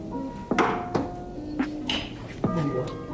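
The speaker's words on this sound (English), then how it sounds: "So now you're gonna grab a hammer." Metal hammer strikes during a truck axle change, about five sharp ringing clanks spaced irregularly, close and loud over a low background hum.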